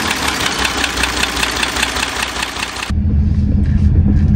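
A bin truck diesel engine, just repaired with a new EGR cooler and fresh oil, runs with a rough, knocking rhythm, then settles into a deeper, louder idle.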